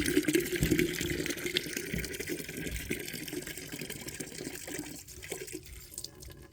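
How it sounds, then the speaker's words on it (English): Water from a hose runs steadily into a bucket, making a continuous, fairly soft splashing gush with no voices. "put a little bit of water in the bucket"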